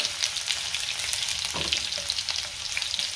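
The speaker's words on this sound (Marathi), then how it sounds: "तेल गरम झालंय, मोहरी घालूया, त्यातच जिरे घालते, लसूण घालायचा आहे।" Mustard seeds, cumin and garlic sizzle hard in hot oil, a close, dense crackling hiss that runs steadily throughout with a few brief stirring scrapes and no voices.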